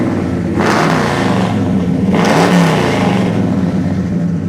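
A 1969 Chevrolet Chevelle SS with a big-block 396 V8, 4-speed manual and dual exhaust revs loudly and close by, with two distinct throttle blips over a steady, rumbling idle.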